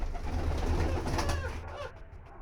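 Pigeons coo indoors while being fed grain in a room, a soft, low, continuous burbling close by, with some light rustling and higher chirpy sounds toward the end.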